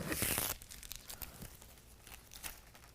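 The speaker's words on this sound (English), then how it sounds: "we always want to make sure we remove the plastic film before we attach the visor" Protective plastic film being stripped off a window visor for a 2022 Ford Maverick: a brief loud rip at first, then quiet crinkling and crackling of the film as it comes away, close up.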